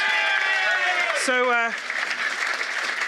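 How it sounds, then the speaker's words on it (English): Audience applause at an improv comedy show, a continuous bright clatter of many hands that carries on steadily throughout, with a voice and a tonal cue briefly layered over the clapping near the middle. "Round of applause."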